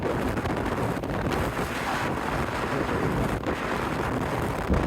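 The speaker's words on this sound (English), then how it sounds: "I didn't think it was as windy as this." Strong wind buffets a microphone outdoors, a steady, loud rushing roar that holds for the whole stretch with slight gusting swells and no voices.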